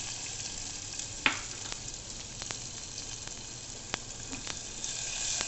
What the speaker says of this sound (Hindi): गैस थोड़ी सी मैंने तेज़ की और अब इसमें ऐड कर दी प्याज।